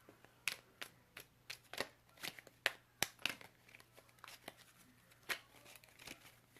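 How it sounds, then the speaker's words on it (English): Tarot cards are shuffled and handled close by in a quiet room, giving uneven papery flicks, snaps and slides in short irregular bursts with no voice. "I'm just getting a few cards out for you guys."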